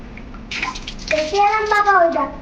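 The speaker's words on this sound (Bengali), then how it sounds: "এই ঠান্ডা জলটা দিয়ে আমি এবার একটু মুখ ধুয়ে দেবো।" Cold water drawn from a well in a bucket splashes close by as someone washes their face, with a voice heard over the last part.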